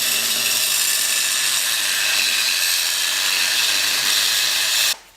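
Angle grinder cutting aluminum held in an unmounted vise, a continuous high-pitched grinding whine for about five seconds that cuts off abruptly at the end, with no talk.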